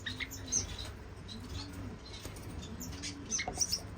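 Pet birds shuffle and flutter softly in a quiet room, making faint scratches, brief wing flaps and a few small chirps, with no one talking.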